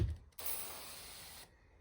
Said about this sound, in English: And you can adjust the nozzle on most spray bottles, just so you've got the right amount of chemical going down